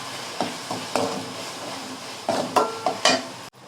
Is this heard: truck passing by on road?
no